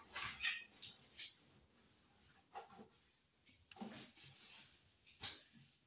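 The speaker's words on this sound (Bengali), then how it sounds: "চুলাটা না মাজা হয়নি দুপুরবেলা, তো ভাবলাম এখন একটু মেজে ফেলি" A kitchen stove is scrubbed clean by hand in faint, scattered scraping and rubbing strokes, with light metallic clinks against a quiet background.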